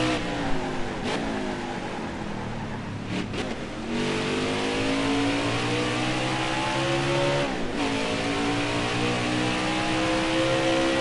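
A race car engine in a video game wails at high speed, pitch climbing through gears with brief dips at shifts, loud and continuous with no speech.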